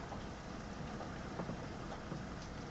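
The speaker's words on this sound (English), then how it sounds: "Oh, it's the rain." Rain coming through a call as steady hiss-like static, a continuous broadband wash with no distinct drops, alone without talk.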